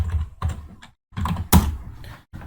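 Typing on a computer keyboard while running a compiled C program from the command line, in short bursts of close key clatter separated by brief pauses, with one sharper louder keystroke near the middle and no speech.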